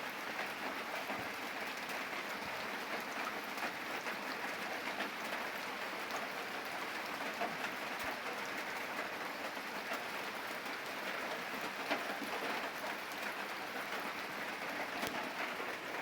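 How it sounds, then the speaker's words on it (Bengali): Rain falling steadily, a dense even patter of drops with occasional sharper ticks on a surface, fairly quiet and continuous throughout, no speech. "একটু বৃষ্টি দেখবি?"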